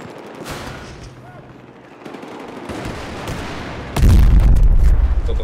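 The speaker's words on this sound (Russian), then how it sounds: "Кто-то взрывает здесь капитально." Dense bursts of Battlefield 4 gunfire with booming blasts, growing louder and heavier in the second half, with faint voices underneath.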